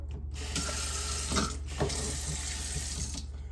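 Cold tap water pours steadily into a container for cold brew coffee, a continuous rushing splash that stays loud and even throughout, with no voices.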